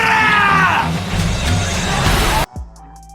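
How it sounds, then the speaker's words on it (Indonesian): Crowd of fighters yelling a battle cry in a brawl scene from the film Crow Zero, a dense surge of loud overlapping shouts lasting a couple of seconds before cutting abruptly to near silence. "Civil War mulai berkecamuk dengan teriakan ura ura ura ura ura ura."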